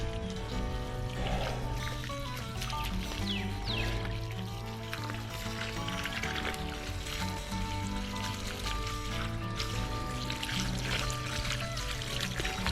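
Water overflowing from a pipe, a steady pouring and trickling wash that runs continuously at moderate level close by.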